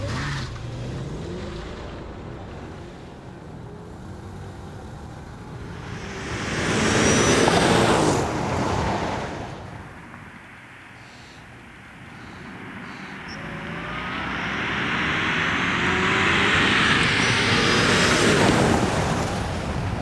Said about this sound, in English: Roll race from 50 kilometers an hour, the E55 takes it.